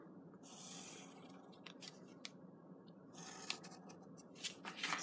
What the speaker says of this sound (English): So you'll need to cut those out on the traced line.